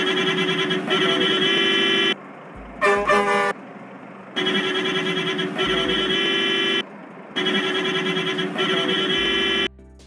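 Modded bus horns in the mobile game Bus Simulator Indonesia blare in long, loud musical multi-tone blasts, three sustained honks separated by short gaps with brief clicks between.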